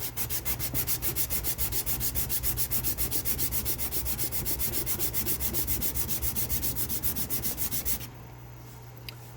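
Hand sanding metal toward a chrome finish with 220 and 320 grit sandpaper, a rapid regular back-and-forth scratching rhythm, close and steady, stopping abruptly near the end and leaving faint background hum.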